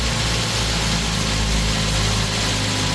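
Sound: Mazda 3 engine idling after water pump replacement

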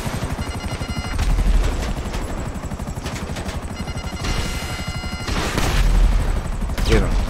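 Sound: gunfire in the video game GTA Online

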